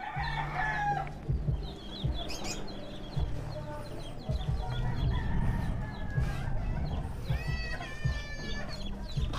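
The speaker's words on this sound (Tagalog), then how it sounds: "Sisiw pala yan." Young chicks cheep in rapid high-pitched peeps alongside a clucking hen, with a steady murmur of background noise throughout.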